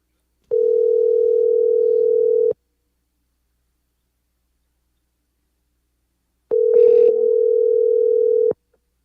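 Two long, steady ringback tones of an outgoing telephone call, each about two seconds, separated by silence, loud and clean, with a faint brief noise over the start of the second tone.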